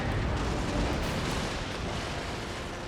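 Ship cannon fire in Empire Total War, a naval battle of sailing warships: a continuous heavy rumble of booming shots blending together, steady and loud throughout with no speech.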